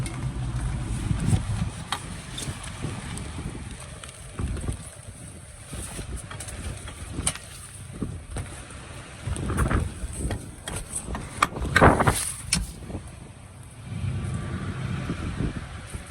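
A tractor engine rumbles steadily outdoors at a consignment auction while wind buffets the microphone, and the noise swells and fades.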